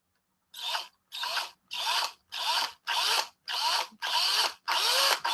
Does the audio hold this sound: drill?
yes